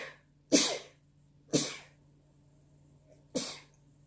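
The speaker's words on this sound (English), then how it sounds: "I'm sneezing a lot after I started using this" Three sharp sneezes from a woman burst out close by, separated by short quiet gaps, the last one after a longer pause.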